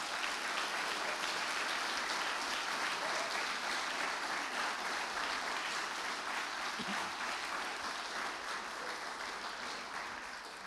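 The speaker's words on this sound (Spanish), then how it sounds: "Dale un aplauso al Rey este día." Congregation applauding for the King during a Sunday church service, a steady, even wash of clapping that carries on unbroken from start to finish at moderate-to-faint level, with no voices on top.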